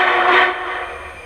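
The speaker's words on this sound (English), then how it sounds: "blow the whistle for reverse" Steam whistle on an MTH HO scale Union Pacific 4-6-6-4 Challenger #3977 model locomotive: a single loud, close blast that swells quickly and fades out over about a second.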